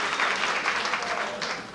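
Audience applause and cheering fill a comedy club crowd during a stand-up set, a dense, steady wash of clapping held close throughout the brief moment.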